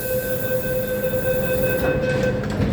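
An MTR Island Line M-Train pulls away from platform 2 at Chai Wan station with a steady rumbling roar and a sustained tonal whine, heard up close with no talking over it.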